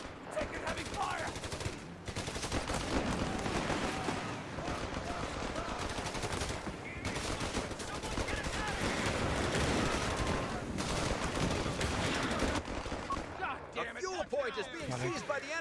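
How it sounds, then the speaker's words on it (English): Heavy gunfire rattles through a Company of Heroes 3 battle, dense machine-gun bursts and rifle shots layered nearly continuously, with a voice talking over the fighting. "Taking heavy fire."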